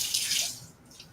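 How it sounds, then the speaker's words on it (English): A short rush of water splashing and dripping as a floor mop pad is wrung out over a bucket of clean mop water, fading quickly to quiet drips. "I'm going to get a pad out and wring it out"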